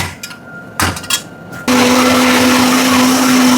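After a few clattering knocks as the jar is set up, a blender starts and grinds cooked tomatoes into a paste for paneer lababdar, with a loud, steady, high whirring motor that runs on close by.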